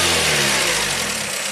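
A 1987 Toyota MR2 engine runs loud and steady, holding a smooth, stable hum with no voices over it.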